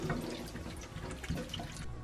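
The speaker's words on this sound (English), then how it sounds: "Constantly shake it while you're rinsing it, so that way it doesn't like overflow and whatnot" Tap water runs steadily over boba tapioca pearls being rinsed in a small strainer and shaken, with a continuous splashing wash and a few brief clinks, close and alone.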